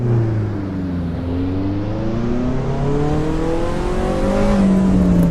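A racing-game Honda-style VTEC engine in Assetto Corsa Evo revs steadily upward with rising harmonic tones, the note hardening as the cam switch engages partway through, loud and close with no talking.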